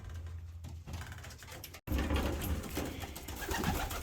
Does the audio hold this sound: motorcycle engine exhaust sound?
no